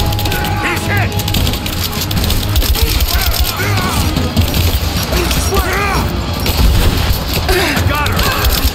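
Dense gunfire bursts crackle almost nonstop in a Rise of the Tomb Raider firefight in the Geothermal Valley, with sharp impacts and splintering under shouted combat voice lines throughout.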